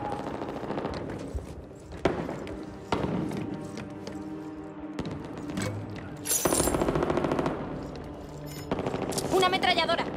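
Machine gun fire from the zombie shooter Back 4 Blood rattles in rapid repeated bursts over a game soundtrack, with sharp clustered shots and brief pauses between volleys.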